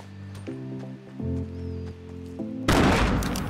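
In a team shooter video game, low droning tones give way to a sudden loud grenade blast, followed by a dense burst of gunfire and rumbling.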